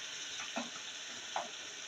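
Chicken stock cube and fried masala sizzling in a pan during chana daal fry preparation, a steady close frying hiss with two soft stirring scrapes, no talking.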